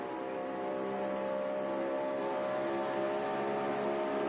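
NASCAR stock cars run side by side down the straightaway into turn 3 in a 1996 race, producing a sustained, fairly distant droning roar of many engines with tonal harmonics, steady and uninterrupted, with no talking.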